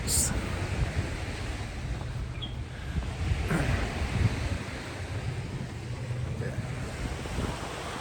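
Waves wash steadily onto a beach at Peng Chau, Hong Kong, a broad, continuous surf roar mixed with wind rumbling across the microphone, fairly close and even in level throughout.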